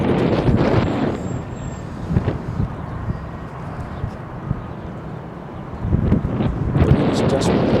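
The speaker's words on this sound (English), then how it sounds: "The wind is just blowing." Strong wind during a sandstorm around a villa in Riyadh, Saudi Arabia, buffeting the microphone in loud rumbling gusts that swell and ease, with a faint murmur of a voice in places.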